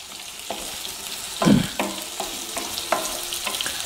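Onion, green chili and carrot fry in a pan for egg noodles, with a soft continuous sizzle and a few distinct scrapes and knocks from a stirring spoon, one louder stroke near the middle.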